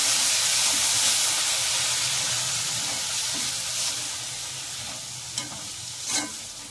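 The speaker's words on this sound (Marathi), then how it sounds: "आता मेथीची भाजी आपण आहे ना चमच्याच्या साहाय्याने चांगली मिक्स करून घेऊया।" Methi (fenugreek) bhaji being stirred with a spoon in a pan, a steady sizzling hiss with soft scraping strokes and a few louder spoon clicks near the end, no talking.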